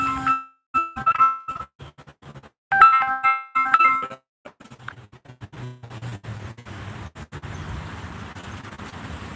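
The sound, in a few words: phone ringing with an incoming call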